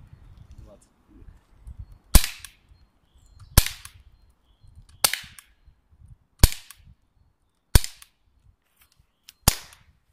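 Six sharp, loud pops from a JRH 941 air pistol, spaced roughly evenly about a second and a half apart, with faint background noise between shots.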